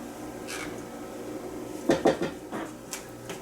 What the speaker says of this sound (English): I'm just going to take a little stirring spatula and stir it up